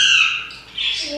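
A pet parrot lets out a loud, harsh squawk up close, then a second shrill call after a brief dip, with no talking over it.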